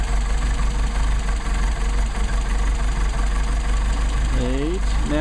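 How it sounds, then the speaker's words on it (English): A Mercedes 190SL engine idles steadily on Solex 44PHH carburetors, a close, low, even rumble, with a brief pitch-shifting whine near the end as the idle is bumped up. "Now that idle's a little on the low side, I think, so I'm going to bump you back up."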